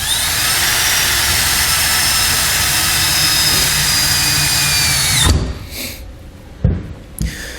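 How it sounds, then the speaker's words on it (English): A 4-inch hole saw bit drills through the bed of a 2019 Ford F-350 Super Duty pickup, a loud steady whining grind lasting about five seconds, then stopping, followed by a few clunks and knocks. "we're going to take a 4-inch hole saw bit and we're going to drill out our 4-inch hole."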